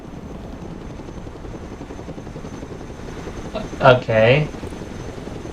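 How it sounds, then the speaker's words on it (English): A cargo helicopter flies in the video game Broken Arrow, its steady rotor and engine drone running unbroken throughout, with a brief spoken word and short voice bursts partway through. "Let's go and recover it with our helicopter."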